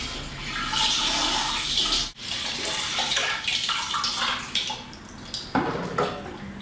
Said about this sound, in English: what it's going to do is empty the water out into a separate container